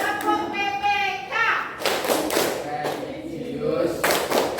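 Schoolchildren in a classroom perform a rhythmic group clap chant, with a few sharp, sustained bursts of clapping in a patterned beat mixed with children's voices and chanting.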